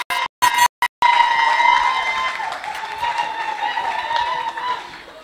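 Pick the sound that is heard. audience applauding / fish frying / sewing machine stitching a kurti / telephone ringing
audience applauding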